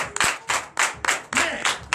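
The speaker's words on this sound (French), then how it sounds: "Donnez l'acclamation à Jésus" A church congregation claps in rapid, rhythmic bursts during Sunday worship, loud and close, with several pulses of applause in quick succession.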